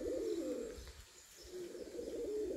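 Pigeons coo near a garden, two soft throaty rolling coos separated by a short pause, moderately close against faint outdoor background.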